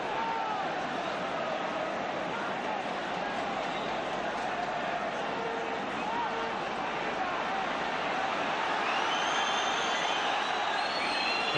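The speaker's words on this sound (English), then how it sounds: "Crowd getting a little bit impatient." A restless stadium crowd at a 1970s European Cup quarter-final between Celtic and Real Madrid, a constant wide roar of murmuring, calls and whistles that builds a little toward the end, with commentary heard over it.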